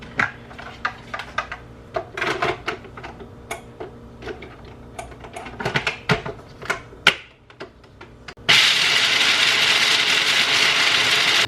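Something being ground by hand in a home kitchen before cranberries are added, heard as irregular close clicking and rattling strokes, followed near the end by a sudden steady whirring rush.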